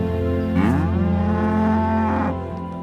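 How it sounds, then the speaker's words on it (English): Ruby Red Devon cattle, a native Devon breed, lowing on a farm: one long, deep, close moo that swells and then fades, with no talking over it. "These handsome-looking creatures are Ruby Reds, one of Devon's oldest native cattle breeds."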